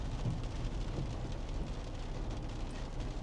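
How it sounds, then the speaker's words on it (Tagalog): Light rain falls steadily in the late afternoon, a soft continuous hiss with faint low rumble and no distinct drops standing out. "Ayan, umuulan-ulan."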